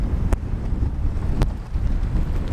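Steady wind buffets the microphone aboard a sailboat riding at anchor, with a continuous low roar and two brief sharp clanks of rigging.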